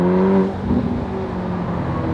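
Ferrari Portofino with a small V8 engine accelerating, a loud close engine note that rises briefly and then settles into a steady roaring whir.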